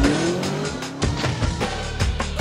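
Porsche Panamera Sport Turismo driving hard, its engine revving and gear changes rising through the rev range with a brief tyre squeal, loud and close throughout.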